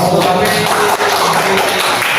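A classroom group applauds together during a teacher-training lesson, a steady dense patter of clapping filling the room at moderate loudness with no talk over it.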